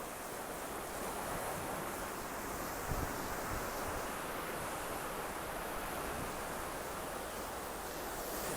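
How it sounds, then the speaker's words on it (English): Sea waves break and wash continuously on a shore at sunset, producing a steady, soft, hissing roar with no voices over it. "Does anyone else find that sound really relaxing? The crashing of the waves."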